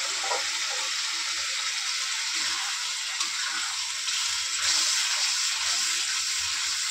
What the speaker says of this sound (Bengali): চলো এবার মিক্সির বাটি ধোয়া জলটা এর মধ্যে দিয়ে দেবো